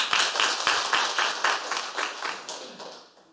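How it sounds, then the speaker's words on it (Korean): A church congregation claps in encouragement at an Easter worship service, a close, steady run of handclaps that tapers off over about three seconds. "우리 다시 한번 격려의 박수 부탁드립니다"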